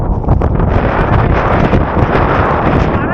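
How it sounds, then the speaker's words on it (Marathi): Strong wind roars steadily into the microphone atop Ratangad fort between steep valleys, a loud, constant buffeting rumble with gusty swells throughout, no voices. "एवढा सुसाट्याचा वारा आहे"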